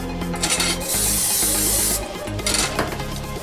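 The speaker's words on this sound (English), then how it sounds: "pan spray" A hiss of cooking spray bursts onto a pan heating at medium heat for about a second, then a second shorter spritz follows amid light clinks of cookware.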